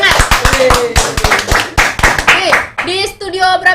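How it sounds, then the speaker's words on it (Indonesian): Studio audience clapping along on a casual Indonesian talk show, a brisk run of sharp, close hand claps with a cheerful voice speaking over the end. "Kasih tepuk tangan dong biar semangat."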